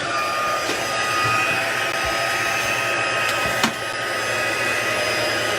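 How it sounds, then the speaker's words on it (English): A craft heat tool blows hot air steadily at close range, a constant whooshing hum with a faint click partway through, heard alone with no talking. "so you don't have the heat tool on it"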